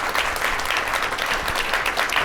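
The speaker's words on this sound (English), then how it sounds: "Big round of applause for Steve Pepler and James Lett" Conference audience applauding two presenters after a session on strategic pricing, tariffs and omnichannel retail: loud, dense, steady clapping from a full room with no talking.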